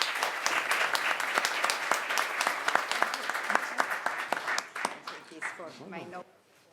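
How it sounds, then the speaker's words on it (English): An audience at a talk on solid state batteries applauds the speakers with brisk dense clapping that thins out and fades, while a voice starts speaking as it dies away. "give a round of applause for the 3 speakers and for my co-moderator"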